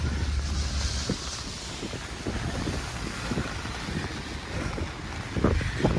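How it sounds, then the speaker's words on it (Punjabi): Strong wind from a rain and wind storm in Italy roars steadily and buffets the microphone in gusts, close and loud, with no talking. "ਆ ਦੇਖੋ ਬਹੁਤ ਤੇਜ਼ ਹਵਾ ਚੱਲਦੀ ਆ"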